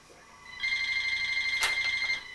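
A telephone rings with a steady electronic trill, fairly loud and close, starting after a brief quiet moment and continuing to the end.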